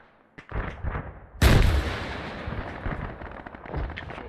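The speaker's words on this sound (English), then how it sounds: "We just engaged heavy machine gun." Heavy machine gun fire in the military video game Arma 3, a sharp booming burst after a brief crack, then rolling echoing reports and rumble trailing off.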